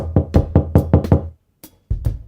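Knuckles rap on a door in a quick run of about seven firm knocks, then a pause and two more, close and loud in a quiet room.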